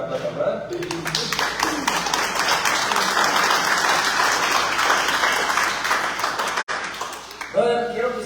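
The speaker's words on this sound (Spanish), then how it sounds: "Dale un fuerte aplauso" A church congregation gives loud, dense applause for a volunteer during a sermon, clapping that swells and holds for several seconds before tapering off, with a voice briefly audible at the start and end.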